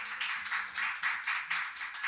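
A church congregation claps in welcome as a speaker comes forward, the rhythmic hand claps fairly faint and distant, pulsing in steady waves without any talk over them.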